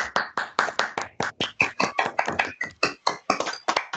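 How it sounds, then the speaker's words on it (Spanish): Scattered hand claps from online meeting participants with open microphones, a brisk, uneven run of close individual claps lasting about four seconds, no talk over them. "a abrir los micrófonos y darle un aplauso a Diego por su presentación."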